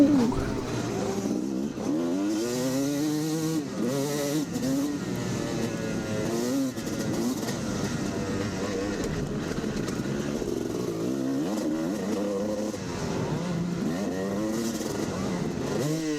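A vintage motocross bike with a weighted flywheel races at Woodland Motocross Park, its engine loud and close, revving up and dropping through repeated gear shifts with one sagging neutral shift, other bikes droning nearby.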